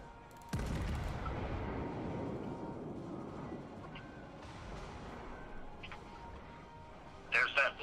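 A single heavy battleship salvo from World of Warships booms out, then a long rumbling decay follows, with a brief electronic chirp near the end.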